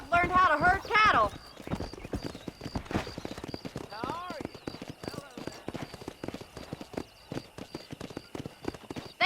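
Horse hooves clip-clop steadily in the Western video game Red Dead Redemption while riding to a cattle pen, a rhythmic mid-distance patter running beneath ongoing talk, with a brief whinny early on.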